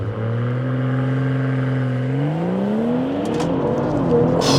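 A BMW M340i holds steady revs on launch control with traction off, then releases and accelerates hard, its engine note climbing loud and close through the gears with brief gaps at the shifts.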